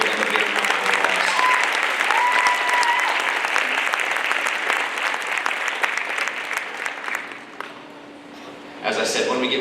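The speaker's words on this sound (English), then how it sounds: "Give them a big round of applause." Audience applause for All-District Band students at a school event, a dense, loud wash of clapping that fills most of the stretch before tapering briefly and picking up again near the end.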